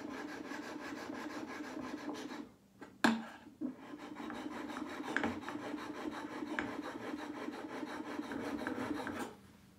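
A steel blade is stroked back and forth across the coarse side of a two-sided sharpening stone held in a jig, giving a steady gritty rasp with a brief clack partway through, close and fairly quiet, with no talking.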